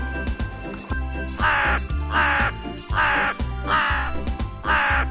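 A crow in a children's fairy tale caws loudly in a string of about five harsh, evenly spaced calls over steady background music.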